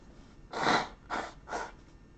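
A person blows their nose in three quick bursts, one long honk followed by two shorter ones, close to the microphone with no talking.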